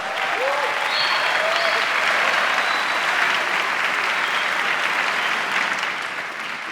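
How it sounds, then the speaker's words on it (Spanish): Sustained audience applause fills the room at a live vocal performance session, a dense steady wash of clapping that holds for several seconds before thinning slightly at the end, with a few faint voices and whoops mixed in. "Un aplauso, por favor."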